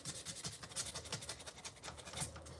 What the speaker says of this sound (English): Sanding that really helps.